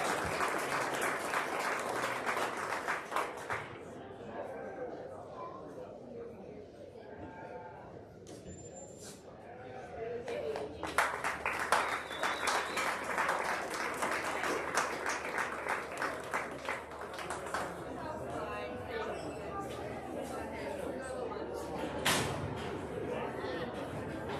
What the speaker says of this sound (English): Let's go ahead and give these kids one more big round of applause.